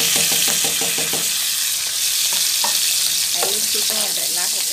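Garlic cloves, cut fairly large, dropped into hot oil for a Guatemalan pork rib dish: a steady bright sizzle and crackle of frying, with a few stirring clatters, close and continuous with no talking.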